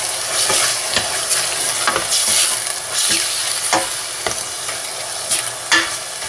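Beef frying in oil in a pan with a crumbled beef cube, a constant sizzle broken by repeated scraping strokes of a spoon stirring the meat, close and loud with no talking.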